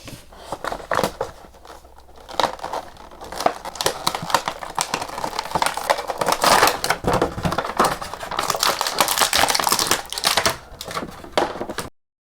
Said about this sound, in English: I'm gonna unbox it.